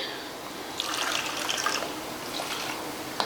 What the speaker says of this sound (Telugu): దీనిలోకి హాఫ్ కప్ నీళ్ళు పోసుకుని బాగా సలసల కాగనివ్వాలండి